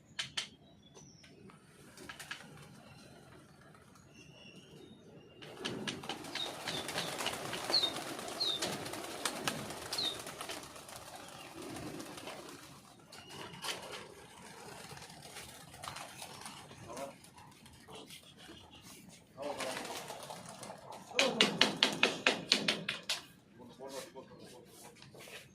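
Pigeons coo and beat their wings in bursts as they are released from a rooftop, with people talking over and between the flurries of flapping.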